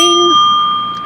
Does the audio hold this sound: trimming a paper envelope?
no